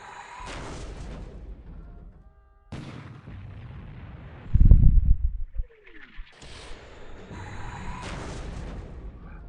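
Torpedo hits in a World War II naval strategy game, set in January 1942 with Japan against the Allies: a few separate heavy booms and rumbling blasts, one very loud burst near the middle, with quieter gaps and trailing effects between them.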